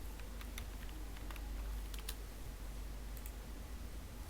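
Faint typing of AutoCAD commands on a computer keyboard, a handful of light scattered keystrokes over a steady background hum, with no talking.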